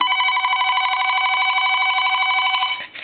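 A Radio Shack Ruby Red telephone's bell rings in one continuous, loud, metallic trill lasting nearly three seconds, then cuts off abruptly.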